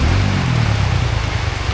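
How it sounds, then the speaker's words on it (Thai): Steady rain pours down in heavy, continuous noise across the whole stretch, with a low rumble underneath, near and loud and with no voices. "บรรยากาศท่ามกลางสายฝน"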